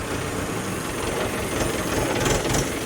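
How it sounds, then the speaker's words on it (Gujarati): A parked tractor's engine runs steadily at close range, a continuous low rumble with broadband noise that holds even throughout, with no talk over it. "અહીંયા મૂકીએ હમણાં ટ્રેક્ટર સાઈડમાં."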